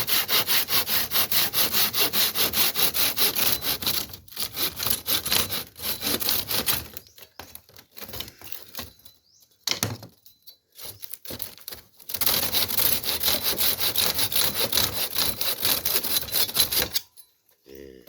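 Bamboo is being hand-sawn at an angle to make a split-bamboo floor, giving a long run of steady rasping strokes that pause midway for a few seconds before resuming, loud and close.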